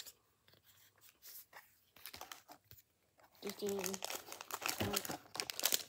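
Plastic wrap crinkles and tears as it is pulled off a Pokémon Fusion Strike elite trainer box, close and scratchy in bursts, with a person talking over it.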